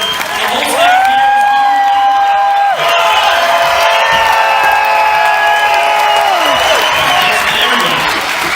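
A community event crowd applauds and cheers loudly, with whoops and shouted voices over clapping, while musical or tonal sounds and a voice carry through most of the stretch.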